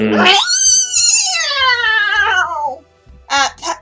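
A human voice imitates a startled cat, giving one loud, drawn-out rising then falling yowl followed by two short sharp yelps, close and alone.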